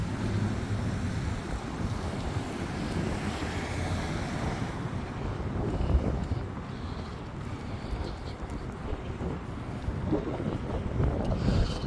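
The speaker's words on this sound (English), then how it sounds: "Wind is picking up." Gusty wind buffets the microphone outdoors on a city street late at night, a steady low roar with swelling gusts throughout, no voices.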